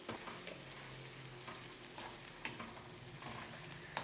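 Paneer stuffing sizzles softly in a pan while a spoon slowly folds and stirs it, giving a continuous low hiss with gentle scraping taps throughout.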